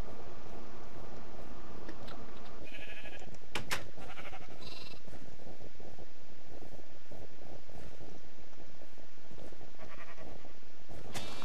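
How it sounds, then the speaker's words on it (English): Sheep in a modded survival video game bleat a few times over a steady wash of rain-like noise, the calls short and fairly close, with no talking. "Come push this sheep in."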